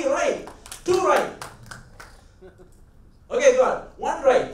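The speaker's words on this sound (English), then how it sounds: "Give them a round of applause." Audience members at a talk clap briefly in a short, scattered round of applause, mixed with people speaking nearby.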